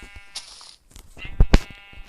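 Sheep bleating in the video game Minecraft, a few short bleats over a quiet game background with a couple of louder bursts near the end.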